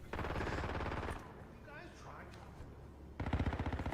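Video game Marathon weapon sounds: a rapid burst of automatic gunfire, a quieter stretch of mechanical reload clicks and clacks, then another loud rattling burst of fire.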